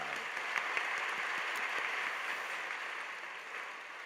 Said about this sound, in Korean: 격려의 박수를 하겠습니다